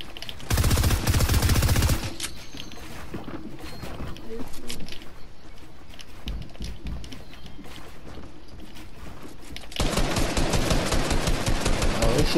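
Rapid automatic AR assault rifle fire in a video game, loud bursts at the start and end with sparser shots between and a voice talking over the action.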